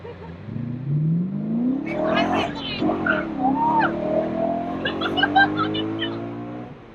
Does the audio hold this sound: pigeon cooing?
no